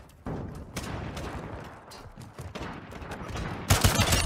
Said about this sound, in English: Fucking automatic shotgun.